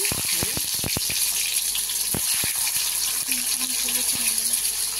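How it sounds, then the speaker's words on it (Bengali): An egg fries in hot oil with a steady, bright crackling sizzle close by, punctuated by sharp pops and a few faint clinks, while someone speaks quietly over it. "তেল বসিয়ে দিয়েছি, এদিকে ডিমটা এবার ভেজে নেব"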